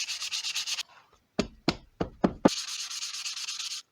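Wet sanding of a pewter casting of a crow with 400 grit sandpaper makes steady, raspy back-and-forth rubbing strokes, close up. A brief pause holds a few soft knocks, then the even strokes resume.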